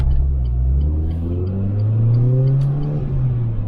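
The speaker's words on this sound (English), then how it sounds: "the car is very rev happy. It really wants to climb those RPMs already" Left-hand-drive Renault Clio R.S. engine revving up alone, a close, loud rising drone that climbs steadily in pitch through the rev range before dropping back near the end.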